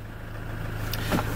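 An Iveco Daily 2.8 diesel with about 130,000 km idles steadily at close range, a low even hum running throughout, with a brief higher mechanical whir near the end.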